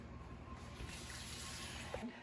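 Water pours from a pitcher in a steady stream, a continuous splashing gush that runs for a couple of seconds.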